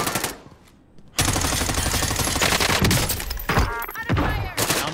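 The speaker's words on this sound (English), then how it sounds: "Man, they're shooting real close." Rapid automatic gunfire and scattered shots in a Call of Duty Warzone Gulag match, loud and close, with bursts rattling over a brief quiet gap and heavy continuous firing through most of the stretch.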